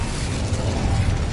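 A fire spell burst from Hogwarts Legacy, a dense, steady rumbling whoosh that sustains for over a second at loud level, with booming low crackle and no break or speech.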